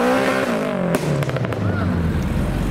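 A tuned, turbocharged Honda Civic EP3 engine revs and pulls away nearby, a loud rising and falling growl with a sharp crackle partway through.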